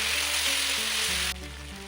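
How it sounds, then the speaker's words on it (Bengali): Raw tomato sizzling in mustard oil in a hot wok, a steady, close, loud hiss of frying that drops slightly in level near the end, with no one talking. "টমেটোটা কাঁচা টমেটো ছেড়ে দিলাম কড়াতে"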